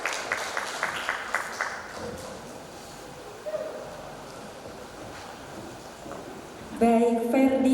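Audience at a Duta Bahasa ambassador pageant final in Bangka Belitung clapping: a dense, even wash of applause throughout, with a voice over it at the start and a louder voice coming in near the end.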